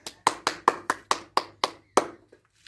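Eight or nine crisp, evenly spaced hand claps ring out close by, the last one trailing off into a short pause.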